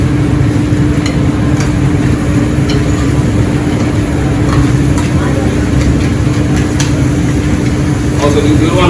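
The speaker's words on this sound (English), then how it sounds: "We'll add the mussels to the pan." PEI mussels hit a hot pan for a creamy tomato and chorizo sauce, giving a steady, dense sizzle that runs the whole time beneath a low background hum.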